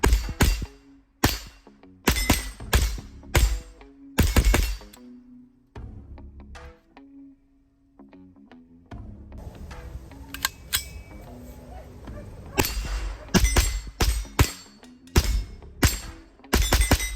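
A JP-15 .22 rifle fires Blazer rounds from a 25-round magazine, sharp close cracks coming in quick bursts and singles, with quieter pauses and handling clicks between strings.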